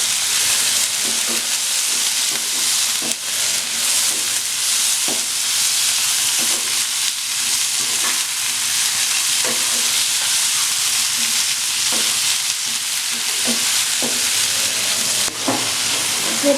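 Tomatoes fry in a kadai with paneer masala, giving a steady loud sizzle broken by regular clinks and scrapes of a stirring spoon, with no talk.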